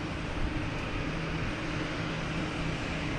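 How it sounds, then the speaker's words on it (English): A WestJet airliner arriving from Vancouver at Boston Logan Airport gives a steady, fairly faint broadband jet roar throughout, heard from a distance with no talk. "we have WestJet coming in from Vancouver"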